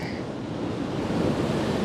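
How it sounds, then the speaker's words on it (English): Ocean surf rolls steadily onto the shore of the Jurassic Coast as the tide comes in, a continuous broad wash of breaking waves with no voices. "You can see we've already got waves starting to come in."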